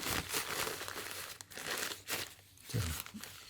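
Papery packaging from a Sony 100mm G Master macro lens crinkles and rustles close up in soft, uneven bursts with no one talking.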